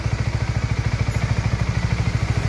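A Honda CBR150 motorcycle engine idles steadily up close, a fast even mechanical putter with a slight clattery edge and no voices.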